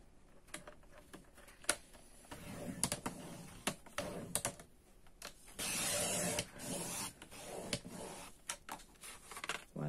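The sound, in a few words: paper trimmer (massicot) cutting card to 16 cm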